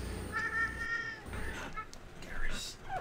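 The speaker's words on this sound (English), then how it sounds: "Maybe the cat is trying to tell you where it is." A cat meows several times, short tonal cries rising and falling, heard over a steady background hum and some talk from people nearby.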